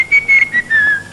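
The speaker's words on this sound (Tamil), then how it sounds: "விசில் எல்லாம் நிறுத்துறா." A person whistles a short wavering tune in a Tamil comedy film scene, clear and close, several brief phrases with small gaps between them and no talking.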